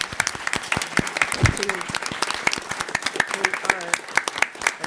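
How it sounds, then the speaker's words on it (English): Conference audience applauding at a climate and compost event in New York City, dense steady clapping throughout with a voice speaking briefly over it. "let's give a big round of applause"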